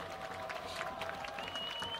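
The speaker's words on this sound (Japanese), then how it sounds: "今拍手が沸き起こっております。" Crowd behind the goal at a university soccer championship semifinal applauding as players form a huddle, fairly faint steady clapping with a soft background murmur and a thin sustained tone.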